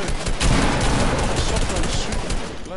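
Video game shotgun fire in a busy firefight, loud, dense blasts and rattling shots packed together throughout, with a voice speaking faintly beneath.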